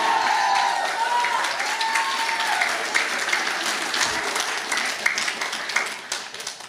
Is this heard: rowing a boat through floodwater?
no